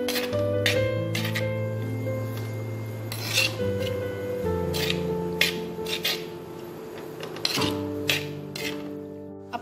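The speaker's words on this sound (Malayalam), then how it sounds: "ഇനി നമുക്കിതൊന്ന് ലൈറ്റായിട്ട് ഒന്ന് കുഴച്ചു കൊടുക്കാം." Prawns for a Malabar prawn biryani are worked by hand with marinade spice powders in a bowl, giving soft rubbing scrapes and occasional clinks at irregular intervals over a steady tonal background.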